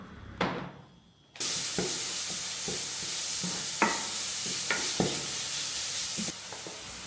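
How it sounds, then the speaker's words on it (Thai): Loud, steady sizzling of vegetables stir-frying in olive oil in a hot pan, broken by scraping stirs and utensil knocks, close by, with no talking. "ตั้งกระทะ ใส่โอลิฟออยล์แล้วก็ผัดให้เกิดกลิ่นฉุนค่ะ"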